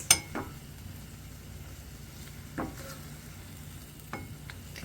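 Peppers cook in a pan as the water reduces, a quiet steady sizzle with a few soft utensil scrapes and taps spaced apart.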